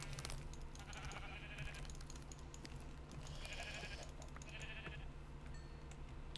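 Faint sheep bleats from Minecraft recur a few times over a steady low background hum, with no talking.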